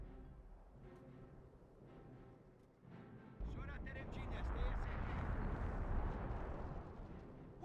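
Artillery fire in the World War II strategy game Company of Heroes, on the Hill 317 map, lands as a sudden deep, heavy rumbling blast partway through and keeps roaring, following quieter stretches where a voice talks.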